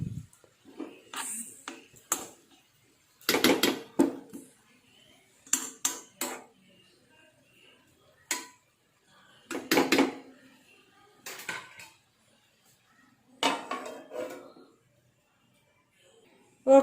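Spoon scraping and clanking in a cooking pot while banana flower and lentils are stirred for a stir fry, intermittent metallic knocks in short bursts with quiet gaps.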